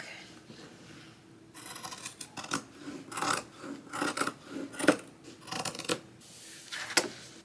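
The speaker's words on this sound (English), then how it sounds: "Just gonna cut this fabric." Scissors cut through denim fabric in a string of short, close snipping and rasping strokes with little gaps between them, at moderate loudness and with no talk.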